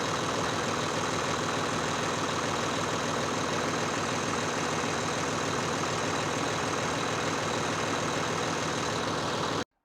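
A CAT D7E dozer's C9.3 diesel engine idles steadily at close range, a continuous low rumble with a broad, even mechanical drone and no voices over it.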